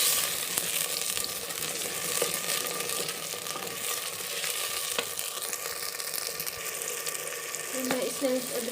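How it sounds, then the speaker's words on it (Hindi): Steady sizzling of onion frying in a pan, a continuous crackling hiss with occasional light stirring scrapes. "प्याज फ्राई हो गया, मैं इसमें टमाटर शामिल करता।"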